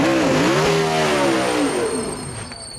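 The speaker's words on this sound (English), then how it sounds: "With the 2010 Honda Civic Type R." A 2010 Honda Civic Type R race car accelerating at the Goodwood Festival of Speed, a loud close engine roar with rising and falling revs through gear changes, fading slightly as it moves away.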